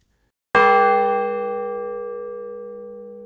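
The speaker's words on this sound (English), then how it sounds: "I heard the church bell chiming." A single church bell strikes once, loud and close, with a rich ringing tone that decays slowly over about three seconds in otherwise quiet countryside.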